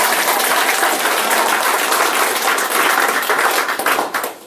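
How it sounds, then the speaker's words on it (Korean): An audience at a Korean lecture bursts into loud, dense clapping after the talk, continuous close applause for about four seconds that then tapers off quickly. "긴 시간 저희들에게 시스템에 대해서 알려주신 양승열 부총장님께 다시 한번 큰 박수 부탁드립니다."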